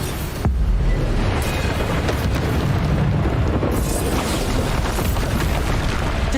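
The Bombarda spell going off in Hogwarts Legacy, a loud, sustained booming explosion with a dense low-end rumble that starts abruptly and carries on for several seconds, close and full, with no voices over it.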